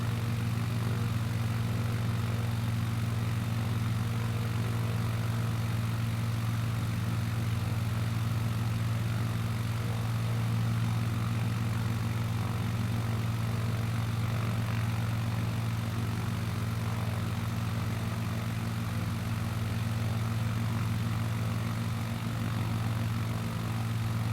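A light propeller aircraft drones steadily in Microsoft Flight Simulator 2020, a constant low engine hum with prop buzz, even and unbroken throughout, no voices.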